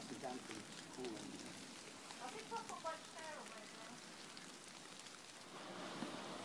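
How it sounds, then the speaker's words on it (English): Heavy rain falls steadily outdoors, with a continuous wash of drops on surfaces and broadband hiss, with brief bird-like chirps in the middle and the downpour swelling louder near the end. "It's raining rather heavily."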